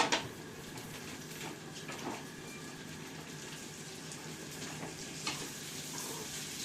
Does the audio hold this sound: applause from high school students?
no